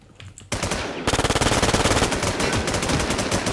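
Rapid automatic gunfire in the online shooter Infestation, loud, close bursts that rattle continuously after a brief quieter lead-in, with no talking.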